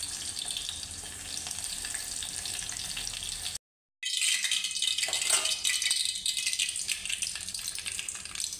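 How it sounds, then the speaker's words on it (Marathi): Mustard seeds and cumin sizzling in hot oil for a tempering, a dense, steady crackle and spit that drops out briefly, then returns loud and close. "आधी मोहरी टाकले, मग जिरे टाकलेत."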